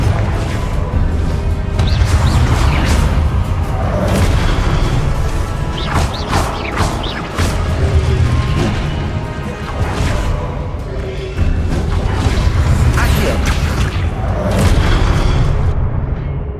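Confringo fire spell blasts from Hogwarts Legacy, a loud, dense run of booms and crashing impacts lasting throughout, with brief dips before the explosions resume.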